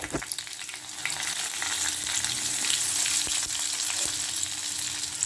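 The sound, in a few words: tempering spices and small onions frying in oil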